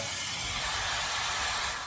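A hair dryer blows nearby with a loud, unbroken hiss of rushing air that stays steady throughout.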